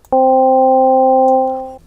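Single sustained note from the first wavetable of the Flux wavetable synthesizer in Cubase, a steady buzzy tone with clear harmonics that starts abruptly, holds about a second and a half, then stops.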